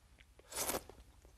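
A single soft bite and chew of smooth, tender starch jelly served in sesame soup, brief and close, alone in a quiet room.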